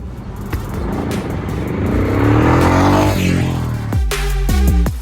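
Royal Enfield motorcycle, a Continental GT 650 or Scram 411, ridden with a loud steady engine and exhaust drone that builds, then sharp revving blips near the end, with no talking.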